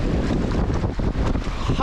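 Strong wind at sea howls around a sailboat among waves, buffeting the microphone in a loud, continuous gusty rush, close and unbroken.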